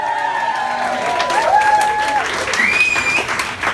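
Comedy club audience bursting into steady applause mixed with cheers and whistles after a stand-up joke, a dense continuous roar of clapping that holds loud for several seconds.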